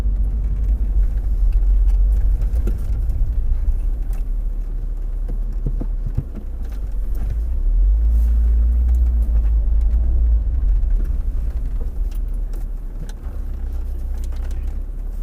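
A Mk2 VW Golf Rallye driving along, with a steady loud low engine drone and road rumble from inside the car that swells and eases slightly as it goes, with no talking.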